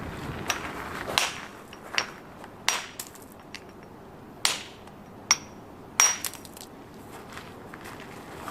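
A hammer strikes a square carbide-tipped pitching tool against stone, about eight sharp ringing metallic blows at irregular intervals, close and distinct over a quiet background.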